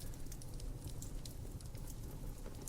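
Quiet crackling from a lit fireplace burning apple tree wood, a steady faint hiss with scattered soft pops and snaps throughout, low in level and steady.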